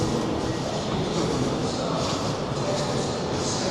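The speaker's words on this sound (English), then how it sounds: "Well, there's the train there." Continuous rumbling of a Class 805 Evero bi-mode train at a station platform close by, a steady broadband roar with rail noise and no pauses.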